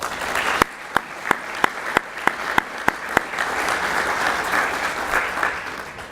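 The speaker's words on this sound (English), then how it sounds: "if we can get one more final round of applause for outstanding students" Luncheon audience applauding outstanding students, a broad, steady wash of many hands, with a string of sharp, close claps standing out at an even pace near the start.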